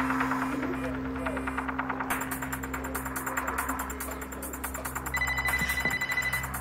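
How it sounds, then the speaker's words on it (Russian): A telephone rings in steady repeated bursts over a low mains-like hum, fairly faint and indoors, with a higher electronic tone joining near the end. "А вот этой Викуловой можно позвонить?"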